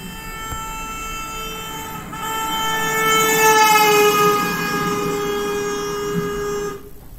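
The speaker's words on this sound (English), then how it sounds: "we got a recording of the car horn" A loud, sustained car horn blares for several seconds, its tone swelling slightly in the middle before cutting off.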